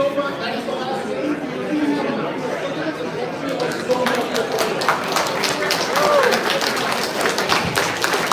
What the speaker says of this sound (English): Big round of applause, big thank you, Techno.